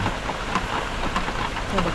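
Heavy rain falls steadily in the Thai countryside, a continuous dense hiss with faint drops and low rumbles running through the whole clip, and no clear voices over it.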